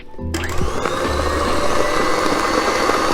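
An electric mixer whips Swiss meringue buttercream, starting after a brief quiet with a rising whir and then running at a loud, steady buzz with faint rattling from the bowl.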